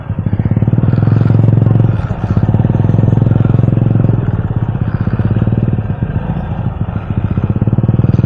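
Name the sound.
motorcycle riding on rough road to church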